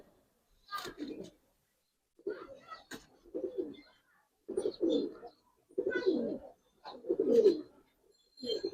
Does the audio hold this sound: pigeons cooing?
yes